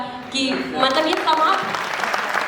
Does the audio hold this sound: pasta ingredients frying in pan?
no